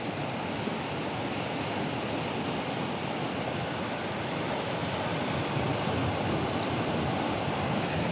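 Ocean surf breaks steadily on a shore in Samar, a continuous broad roar of rolling waves with wind noise across the microphone and no voices.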